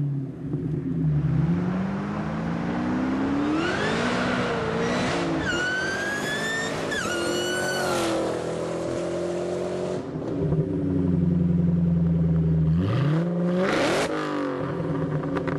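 A 2004 Ford Mustang Cobra Terminator V8 with a Kenne Bell supercharger revs and accelerates loudly nearby, its engine note climbing through gears with supercharger whine, easing off, then surging hard again.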